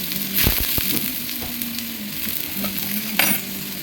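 Chopped onion and green chili frying in mustard oil on a tawa for a sandwich, a loud, dense sizzle close up with a few spatula clicks and scrapes.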